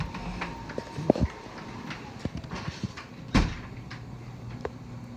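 A faulty door in a locked public restroom at a gas station is handled, giving scattered knocks, creaks and a sharp bang amid quiet room noise.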